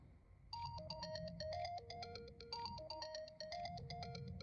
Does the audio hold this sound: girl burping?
no